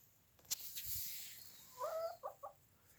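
A chicken clucks close by, a quick burst of several clucks and then a couple of shorter ones, following a few faint clicks and knocks in an otherwise quiet setting.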